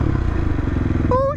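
A motorcycle running steadily close by with a low engine drone, briefly under a voice near the end.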